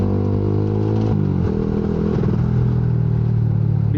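A Jupiter MX motorcycle bored up to 155 cc revs hard on a dyno, its engine holding a loud, steady drone with pitch shifts as the throttle changes, close and continuous with no talk.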